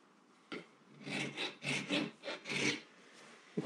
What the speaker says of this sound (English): With the Dremel and a little file or tin.